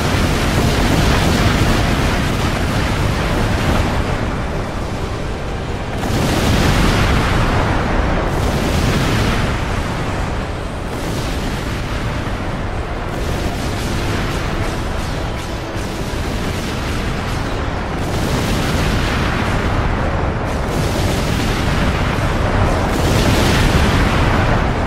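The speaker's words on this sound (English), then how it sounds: "Resuming airstrikes. Disengage from the enemy. The bombardment is about to begin." Bombs fall continuously in an airstrike bombardment in EDF Earth Defense Force 4.1, heavy explosions rolling one after another in long, loud, thunderous waves with no pause and no voices.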